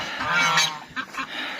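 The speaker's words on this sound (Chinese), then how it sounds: "山东大鹅也是这么叫喊，该呀该呀" Shandong geese honking loudly and repeatedly on a farm, a cluster of harsh nasal calls up close with a few shorter honks following, no talk.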